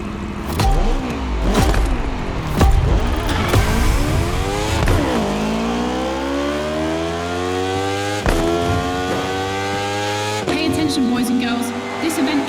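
Racing engines from The Crew Motorfest in a Red Bull Speed Clash time attack event, revving loudly with rising and falling pitch sweeps through gear changes, sustained and close, with a voice talking over them.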